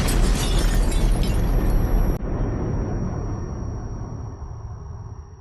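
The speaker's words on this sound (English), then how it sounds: "Suddenly, the camp is shaken by a powerful explosion." Powerful explosion at the Birkenau gas chambers, blown up by the SS: a loud, broad roaring blast with debris rush that fades into a long rumbling tail and a thin steady tone.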